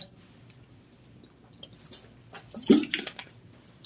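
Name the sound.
speaker sipping water during live stream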